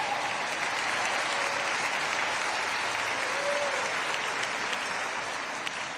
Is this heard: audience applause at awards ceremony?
yes